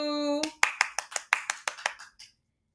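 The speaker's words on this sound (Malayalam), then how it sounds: "ആനക്കുട്ടന് അനുമോദനങ്ങൾ എല്ലാവരും കൈയടിക്കൂ" A voice finishes speaking, then a quick burst of about ten hand claps rings out, close and crisp, before stopping abruptly into silence.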